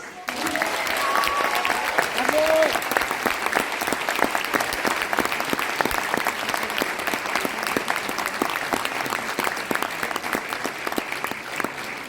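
Sustained applause from a large audience at the 80th Socialist Party congress, dense steady clapping filling the hall for the whole stretch, with faint voices briefly underneath at the start.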